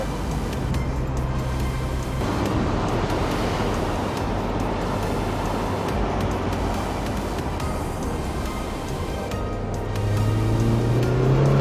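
Mazda MX5 on its first drive after brake work, giving a steady close engine and road roar that swells near the end, with wind and tyre noise throughout.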